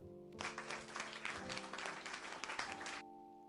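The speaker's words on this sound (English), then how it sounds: "Thank you for cheering that one bit." A burst of audience cheering and applause lasting about three seconds, fairly distant and steady before cutting off.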